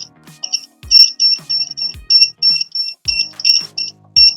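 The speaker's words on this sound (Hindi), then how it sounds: "इस वजह से ये बीपिंग कर रहा है" Buzzer on a homemade earthquake alarm model beeping loudly in rapid, uneven bursts of high electronic tone, interrupted by low knocks and thumps as the model is shaken.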